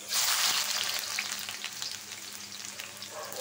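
Onions frying in very hot oil in a thin wok for a chicken and potato curry, a steady close bright sizzle that starts loud and eases slightly, with faint stirring crackles.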